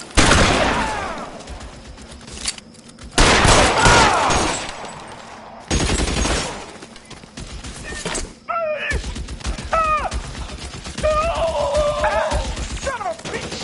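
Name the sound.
gunfire in the video game L.A. Noire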